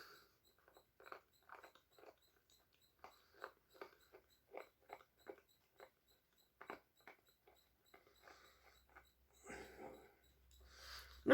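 Someone munches a crunchy snack from a subscription box, a close, quiet run of crisp crunches in an irregular rhythm, then rustling and a brief bump near the end.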